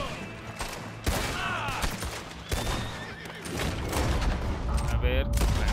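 Shotgun blasts ring out in the video game Red Dead Online, several sharp separate reports mixed with horse whinnies and hoofbeats, while a voice talks over the scene.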